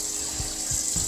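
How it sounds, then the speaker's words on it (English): Water runs steadily from a tap into a cooking pot, a continuous close hiss and splash with a few soft low bumps as the pot fills. "what I'm going to do is I'm going to get some water in this pot"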